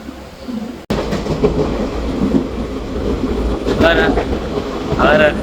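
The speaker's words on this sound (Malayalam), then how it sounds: "നമുക്ക് ട്രെയിൻ കിട്ടി ഗൈസ്" Train running on rails in the rain, heading toward Malappuram, with steady rumbling wheel noise and rhythmic clatter, a brief gap near the start, and two sharp squealing bursts later on.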